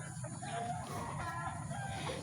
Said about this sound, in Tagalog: ito mga manok.